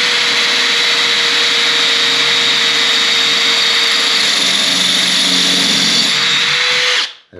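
A wet drill bit grinds steadily through bathroom tile with a loud, continuous high-pitched whine, then cuts off abruptly at the end.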